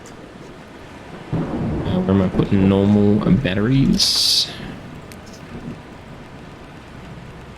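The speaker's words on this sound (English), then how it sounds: "Needed to start raining." A rumble of thunder rolls in over steady rain in the survival video game VEIN, building for a few seconds and fading, while someone talks over it.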